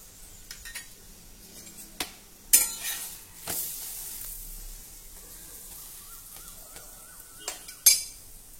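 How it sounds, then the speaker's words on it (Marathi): Corn paratha cooking in butter on a hot pan, flipped to crisp both sides: a faint sizzle under sharp clinks and scrapes of a spatula against the pan, with a few louder knocks scattered through the quiet stretch. "दोन्ही बाजूनी व्यवस्थित बटर लावून छान खरपूस हा पराठा भाजून घ्या."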